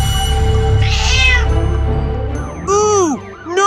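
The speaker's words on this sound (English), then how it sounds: "That cat's way up high!" A cat meows loudly with a rising and falling call near the end, over a busy cartoon soundtrack of music and engine hum during a police car and fire truck rescue of a cat stuck up high.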